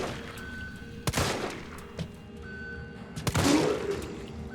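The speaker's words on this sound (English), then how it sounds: "Am I hearing the bullets bounce off the wall?" Sharp gunfire cracks in Resident Evil 3 (2020), two loud broadband bursts about two seconds apart with a ringing, ricochet-like tail after the second, over a steady low game ambience.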